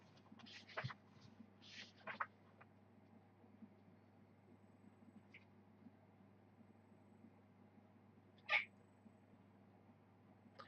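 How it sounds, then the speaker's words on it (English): A pet cat lets out a few short, high squeaks indoors, three clustered near the start and one more a few seconds later, faint and close against a quiet room hum. "That's my cat, by the way,"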